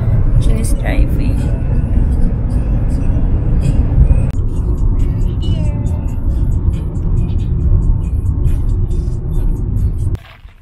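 Car interior drone on the drive to Valley of Fire near Las Vegas, a steady loud low rumble of road and engine noise with voices talking throughout, cutting off near the end.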